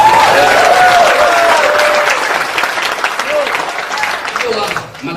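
An audience at a lecture by someone claps loudly and steadily in warm, sustained applause, with a voice speaking over it near the start before the clapping tapers off at the end.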